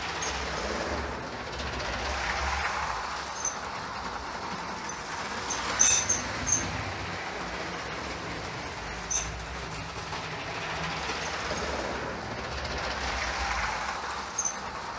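A BlueBrixx brick-built BR 118 DR model locomotive running on a track: a steady rolling rumble with faint clicks and a few brief squeaks, no talk.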